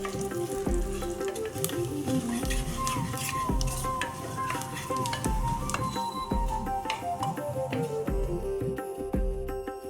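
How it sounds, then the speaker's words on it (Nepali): Dried red chilies and fennel seeds fry in hot oil for amala pickle, a steady close sizzle with scraping stirs and a few clinks of a spoon against the pan throughout. "राखेँ सुकेको 6वटा रातो खुर्सानी र यसलाई डार्क हुने गरी फ्राई गर्दैछु"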